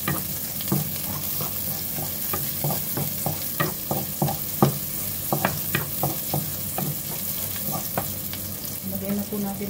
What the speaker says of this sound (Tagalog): Igisa natin ang sibuyas hanggang lumambot ito.